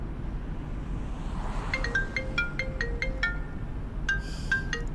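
A phone rings with an incoming call inside a car, a bright melodic ringtone starting partway through and repeating its short tune over a low engine-like rumble.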